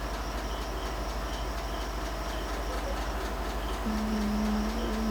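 A train rumbles steadily with broad rolling noise as it arrives at Namkhana station, and a sustained low tone sounds near the end as it slows to a stop.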